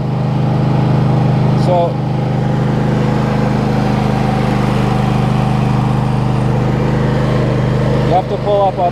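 A Husqvarna Z248F zero-turn lawn mower runs with a loud, steady engine drone that holds throughout, close by, with a person speaking briefly over it.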